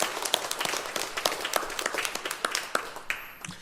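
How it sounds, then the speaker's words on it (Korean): A church congregation claps during a Sunday morning worship service. The claps are light and distinct, a moderate scattering of individual hand claps that thins out just before a brief tone at the end. "하나님 앞에 영광의 박수"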